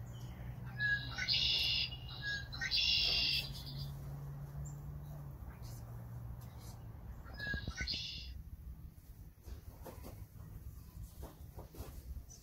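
Chickadees call outdoors in Iowa, with several short high bursts of chirps in the first few seconds and another around the eighth second, set over a low steady hum and faint background noise.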